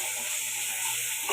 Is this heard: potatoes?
yes